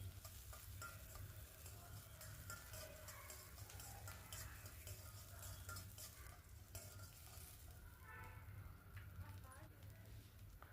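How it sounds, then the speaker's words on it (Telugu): Green and dried red chillies frying in a pan for fenugreek chutney, a steady crackling sizzle with stirring clicks throughout, close and continuous under a low background hum. "పచ్చిమిరపకాయలు ఒక 4, ఒక 2 ఎండుమిరపకాయలు వేసి ఫ్రై చేయండి"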